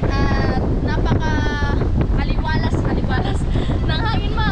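Sea breeze blowing hard at a shore with strong waves, a steady rushing wind buffeting the microphone throughout while people talk over it.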